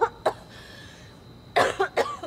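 Someone suffering from a cold coughs in close, harsh bursts: two quick coughs, a pause, then a cluster of three more.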